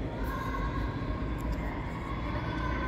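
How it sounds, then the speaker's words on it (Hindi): A metro train passing on a cold day, a loud continuous rumble and rush that holds steady throughout, with no talking. "देखिए गाइस मेट्रो है"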